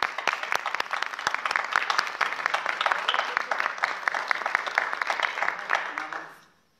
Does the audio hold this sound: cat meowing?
no